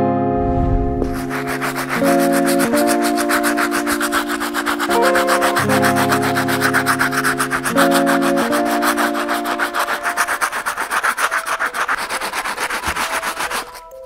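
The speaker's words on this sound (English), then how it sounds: "The first brush we're gonna be using is a stiff bristle brush to clean the soles." Stiff bristle brush scrubbing the soles of suede Nike SB sneakers with cleaning solution, continuous loud rapid back-and-forth scrubbing close up for the whole stretch, with a steady tonal hum underneath.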